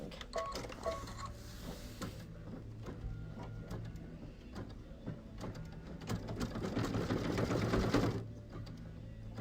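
A sewing machine runs in steady bursts, stitching fabric face masks, with short pauses between runs and a louder, busier stretch near the end; no one speaks.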